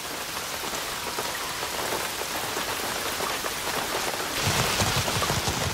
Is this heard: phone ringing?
no